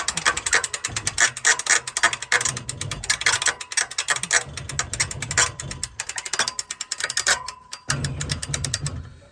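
Boat winch ratchet cranked to take up a strap, a loud close run of rapid pawl clicks in bursts with brief pauses, continuing for several seconds without talk.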